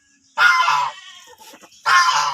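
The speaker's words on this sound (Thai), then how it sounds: "อันนี้เป็ดนะคะ" Ducks on a Thai farm that feed on herbal green chiretta, giving two loud bursts of close, raspy quacking separated by a quieter stretch of mixed farmyard calls.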